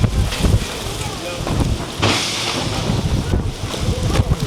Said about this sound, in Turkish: Yalnız şu an rüzgardan uçacağım.